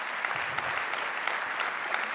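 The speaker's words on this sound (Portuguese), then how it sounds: "Aplauda o Senhor Jesus." A church congregation claps steadily and enthusiastically throughout, a dense continuous patter of applause with no voices standing out.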